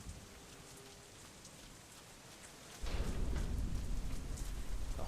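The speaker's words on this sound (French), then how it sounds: "Alors regardez la pluie comme elle est magnifique." Heavy rain in the video game Deadlight, a steady broadband hiss that swells to a louder, denser downpour about three seconds in, with no voices.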